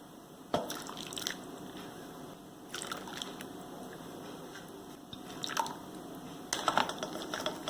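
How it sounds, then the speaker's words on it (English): Hot guava liquid strained from cooked pulp for guava jam gives faint, scattered drips and trickles over a low background, with a few slightly louder splashes. "I'm gonna turn my flame off and strain the liquid from the pulp"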